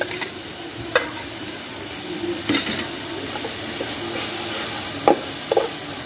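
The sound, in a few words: garlic and ginger paste frying in karahi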